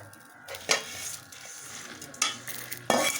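Dried chillies, garlic and curry leaves frying in oil in a pan for tamarind rice, a steady soft sizzle broken by a few scraping stirs of a spoon, close by, no talking.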